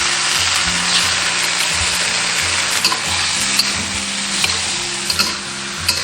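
Beef brisket sizzles and fries steadily in a wok after sauce is added, a continuous hiss with a few light clicks of stirring scattered through.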